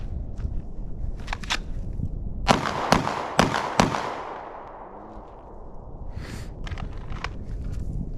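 Echelon 4.0C pistol shots fired at a steel target on an outdoor range: a few quick sharp reports with ringing decay in a tight cluster midway, plus fainter pops before and after.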